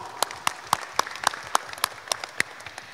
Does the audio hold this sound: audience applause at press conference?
yes